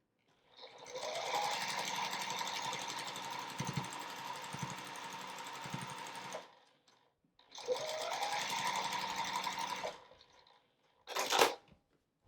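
A sewing machine stitches a quilt block in two long steady runs of rapid mechanical whirring, close and clear, with a short burst of handling noise after a pause.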